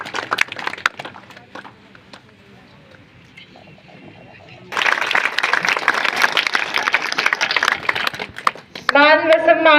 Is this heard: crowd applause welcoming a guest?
yes